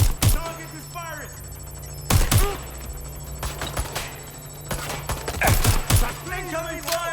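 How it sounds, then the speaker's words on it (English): Gunfire in Watch Dogs Legion: scattered bursts of shots at irregular intervals over a low ambient drone, with a few closely spaced cracks toward the end. "Target is firing."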